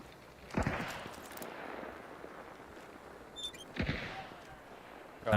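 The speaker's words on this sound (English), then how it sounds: "All I hear is gunshots." Distant gunfire in the video game Dune: Awakening: two separate sharp, faint shots about three seconds apart over quiet background noise.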